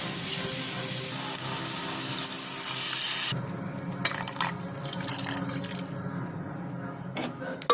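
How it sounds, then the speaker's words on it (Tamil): Water runs from a tap in a steady stream, then splashes and trickles unevenly into a cooking pot of fish kurma curry mixture before tapering off, no voices. "கலந்து விட்டதுக்கப்புறம் தான் இப்போ வந்து தண்ணி போட்டுக்கலாம்"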